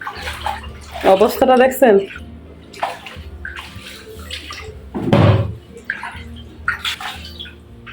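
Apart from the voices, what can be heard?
water running from a tap left on in a garden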